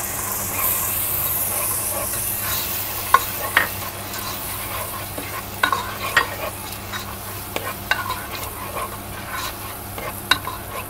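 Tomato puree goes into a hot pan for chicken majboos and is stirred, a steady sizzle and hiss with occasional sharp clicks of a utensil scraping the pan, close and alone.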